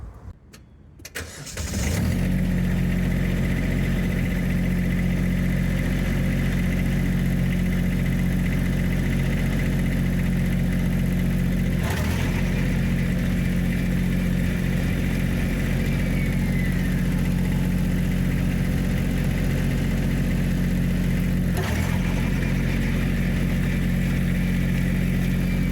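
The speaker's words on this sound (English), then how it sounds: "I'll have the engine at low idle." A Kubota B2601 compact tractor diesel engine rumbles steadily at low idle after starting, a loud, even drone held close for the whole stretch with no talking.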